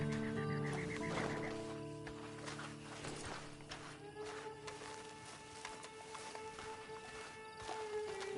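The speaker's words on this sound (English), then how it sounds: "Then you better get on this horse." A horse in Red Dead Redemption 2 whinnies and snorts over a low steady outdoor bed, with faint hoof movement and someone talking at times.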